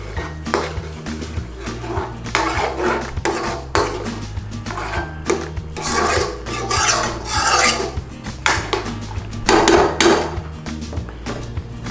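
A spoon repeatedly scraping and stirring coriander through curry in a pan, giving rhythmic rasping strokes and metallic clinks over a low kitchen hum, with no speech.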